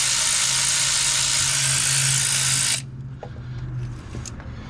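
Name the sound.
AC Delco power ratchet removing long bolts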